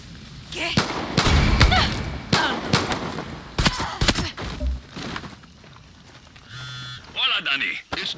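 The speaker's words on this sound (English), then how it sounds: "Is that gunfire? Yes! Yes, it is!" Bursts of rapid gunfire in the video game Far Cry 6 crack loudly in quick volleys, with thuds and sharp impacts in between, then quieter moments of distant activity.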